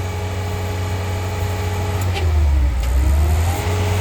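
Marklift 62c 4x4 boom lift with bad wiring has its engine rev up loud and close as the boom moves, a steady drone that swells and dips, with faint clinks over it.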